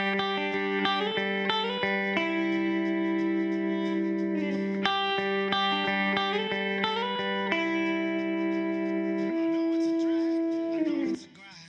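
Guitar riff from a country song, ringing on open strings through effects with a distorted, chorused edge; repeated bright plucked phrases play continuously and loud, then cut off abruptly at the end.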